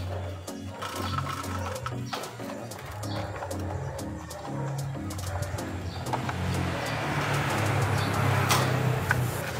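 Racing pigeons coo repeatedly in a loft during a training race, soft rhythmic low coos close by amid wingbeats and faint rustling ambience.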